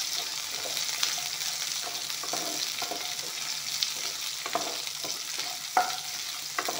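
Chopped garlic and onion frying in a pan give a continuous close sizzle, with intermittent clinks and scrapes from a spoon stirring them.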